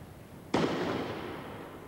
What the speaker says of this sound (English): Cock the gun. Now you're ready to fire.